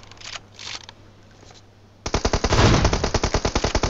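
Rapid automatic gunfire from PUBG on the Erangel map starts abruptly after two seconds of near silence, then continues as a loud, close, evenly spaced stream of shots.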